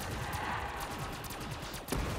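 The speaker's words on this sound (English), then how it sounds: "I just walked through fireworks" Fireworks bursting in a video game, a rapid crackling string of pops and bangs, dense and continuous like a fusillade, ending with a louder burst.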